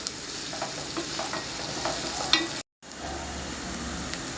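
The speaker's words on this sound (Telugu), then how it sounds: "పచ్చిమిరపకాయలు వేద్దాం ఫ్రెండ్స్" Green chillies sizzling in hot oil while cooking bobbarlu kobbari fry, a continuous crackling hiss with small pops, cut by a brief gap of silence before frying resumes.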